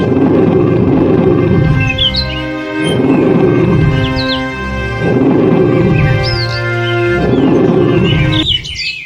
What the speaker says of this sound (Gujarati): આ સાંભળીને સિંહ વધારે ગુસ્સે થઈ ગયો અને કપૂને મારવા દોડ્યો